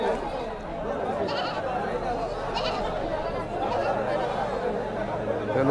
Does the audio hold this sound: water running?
no